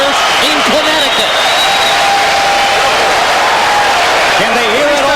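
A boxing arena crowd in Connecticut cheering and applauding for Croatian boxer Mavrovic after his bout with Lennox Lewis, a loud, dense roar of sustained cheers and clapping throughout.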